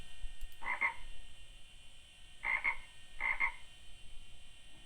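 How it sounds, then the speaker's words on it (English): A built-in Compaq Presario sound effect of a frog croaking, three short, clear croaks spaced apart over quiet background hiss. "Frog sounds."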